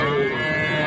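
A cow at a busy cattle market gives a brief, loud, steady moo, a single sustained bellow with little else around it.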